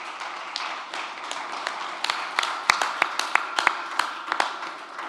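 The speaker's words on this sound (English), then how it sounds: "Please give them a big round of applause." Applause for panelists at a climate talks conference, a moderate spread of clapping over room noise with sharper individual claps growing more distinct toward the end.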